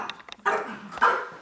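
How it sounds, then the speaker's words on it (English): Dog barking at another dog that has a bone, three or four quick, close barks in an uneven burst with short gaps between them. "She's barking at him because he's got a bone"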